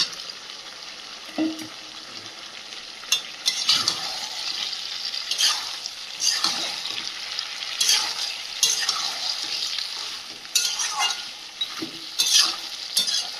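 Fried potatoes being stirred into a sizzling country chicken curry in a little oil, with steady close frying hiss broken by repeated scraping stirs, no talking.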